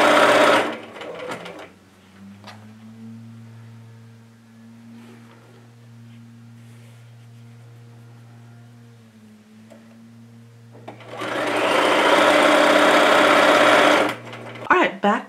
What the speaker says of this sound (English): we're going to stitch across the bottom of each pocket